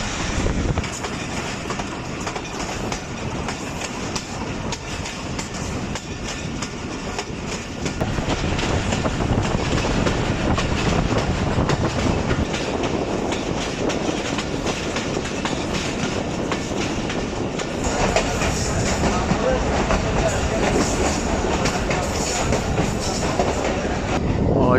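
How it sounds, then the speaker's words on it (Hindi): Ravi Express 122 DN passenger train on the Lahore–Shorkot line rumbles steadily along the rails, with continuous clickety-clack and a loud interior roar that swells after the first few seconds, heard from inside the carriage. "और ट्रेन इस वक्त पहुंच रही है बुचियाना रेलवे स्टेशन पर"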